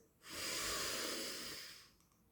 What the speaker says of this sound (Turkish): Parlak kırmızı bir nefes alıyoruz.